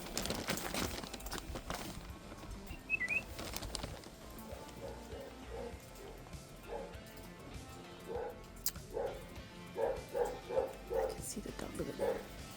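A dog barks in short repeated bursts, faint and somewhat distant, amid rustling and handling noise with people talking nearby.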